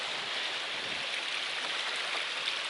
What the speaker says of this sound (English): Crossing over this bridge here on the creek.